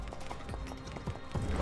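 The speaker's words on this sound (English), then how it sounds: "Oh, there's the horses." Horse hooves clip-clopping in the video game Crystar, a quick, faint run of hoof beats that grows a little louder toward the end, with no talking.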